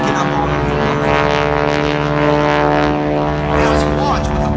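Propeller planes of the Skytypers team roar overhead at the NAS Jacksonville air show, a loud, steady droning engine tone that swells and fades slightly as the formation passes, with a crowd and announcer faintly under it.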